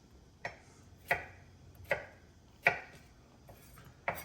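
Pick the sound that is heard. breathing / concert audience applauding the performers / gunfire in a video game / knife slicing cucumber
knife slicing cucumber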